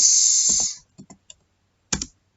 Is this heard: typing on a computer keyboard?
yes